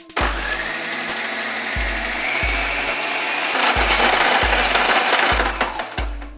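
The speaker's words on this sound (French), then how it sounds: "Maintenant on va aller mixer tout ça." A blender mixes apple pie dough, a healthy sweetened pastry, with a loud steady whirring drone and regular low thumps as the dough knocks around the jar, running continuously at close range.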